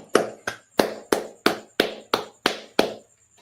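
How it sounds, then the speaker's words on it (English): Nine sharp hand claps in an even, steady rhythm, close and distinct, each ringing briefly before the next, then stopping abruptly with no voices. "All right, clap it up."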